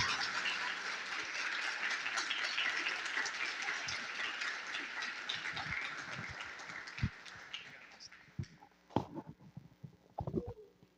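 Dense applause from a church congregation fills the first half, thinning out into scattered claps and a few louder isolated claps toward the end.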